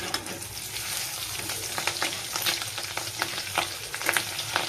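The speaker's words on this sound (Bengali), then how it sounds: "এই দেখো বড়াটা ভাজছি" Bora fritters fry in oil in a pan, a busy crackling sizzle with sharp pops and spatters throughout, loud and close, without any voices.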